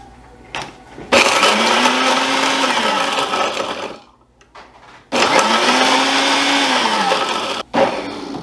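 A blender pureeing pemmican ingredients into powder, with two loud whirring bursts of a few seconds each separated by a short pause, motor pitch sagging as it grinds.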